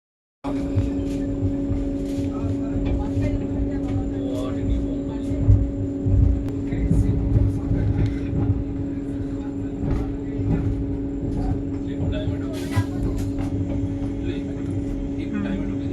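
Vande Bharat Express 27575 from Howrah to Kamakhya running steadily, a continuous low rumble and hum with faint rattles throughout, heard from inside the coach.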